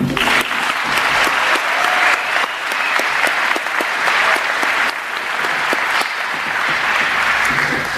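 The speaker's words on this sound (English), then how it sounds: "Please join me as we give them a round of applause." A round of applause at a school awards ceremony for a state runner-up team, dense steady clapping from a sizable audience lasting the full stretch, loud and close.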